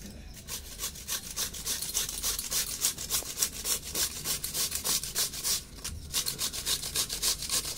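Date palm jaggery grated by hand: a close, steady run of rapid, rhythmic scraping strokes that goes on without pause, with no voices.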